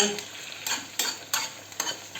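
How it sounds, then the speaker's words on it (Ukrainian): Mushrooms sizzle in a pan, frying off their water, while a utensil stirs them, giving several soft scraping strokes over a quiet frying hiss. "тепер ці гриби ми смажимо, аби не було в них водички"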